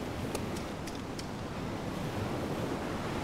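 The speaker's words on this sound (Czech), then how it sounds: "Tady už naše stopy docela blokuje zvuk moře." Sea waves in the video game DayZ roll as a constant, full wash of surf with wind, steady and fairly loud, a few faint high clicks near the start.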